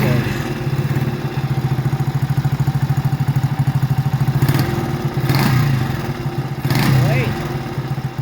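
A two-stroke twin motorcycle engine runs close by with a rapid, even popping idle and bursts of throttle, loud and steady, while someone speaks briefly over it.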